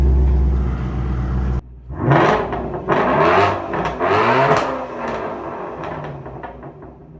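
Shelby GT350 with Kooks headers and X-pipe fired up and revved, a few loud deep rising revs after a thud, settling to a rumbling idle that fades out, no voices.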